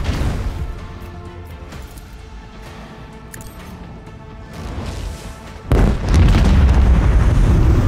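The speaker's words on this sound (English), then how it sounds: "Unleash the power of our Lance batteries! Unleash a barrage of destruction!" Lance batteries fire a barrage from a starship in Warhammer 40,000: Rogue Trader. A low rumbling build-up swells into a sudden, loud, booming blast that sustains as a heavy roar.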